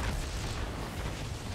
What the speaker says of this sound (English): There's explosions for all involved.